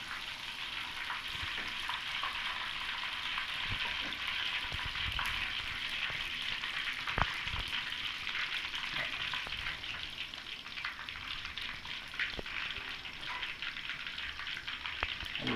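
Spicy fish frying in hot oil, a steady, dense sizzle and crackle running evenly throughout with small pops, close by and moderately quiet, no voices.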